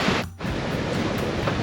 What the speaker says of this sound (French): Donc on a des vagues énormes par rapport à la force du vent